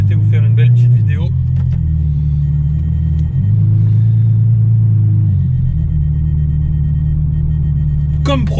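A Ferrari F12 with open exhaust idles loudly with a deep, steady low rumble that swells briefly, while a voice talks over it at the start and end.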